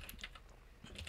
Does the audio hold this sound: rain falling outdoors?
no